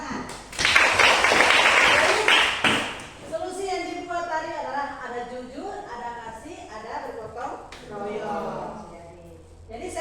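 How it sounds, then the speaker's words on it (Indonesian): A classroom of students claps hands in a short, loud burst of about two seconds, then a teacher and pupils talk back and forth. "tepuk tangan"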